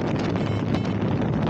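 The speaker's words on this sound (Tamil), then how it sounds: "அடிக்கிற காற்று அப்படியே வண்டியை ஒரு அலசு அலசுதுங்க" Strong gusting wind roars steadily and loudly across the microphone while riding a motorcycle through a cold, high desert valley in Ladakh, with a continuous dense rush and no pauses.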